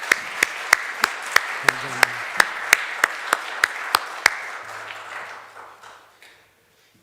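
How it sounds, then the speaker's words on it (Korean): A church congregation at a Sunday service claps in a steady rhythm of sharp, evenly spaced beats that gradually fade away, with a brief spoken word partway through. "박수 한번 더 해야 될 것 같아요."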